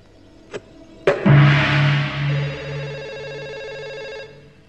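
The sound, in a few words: telephone ringing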